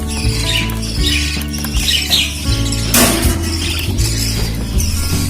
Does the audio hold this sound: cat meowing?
no